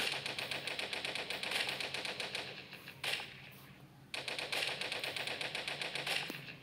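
Rapid automatic gunfire from the video game Toilet Monster: Hide n Seek, loud bursts of rattling shots in long runs, broken by a brief pause before firing resumes.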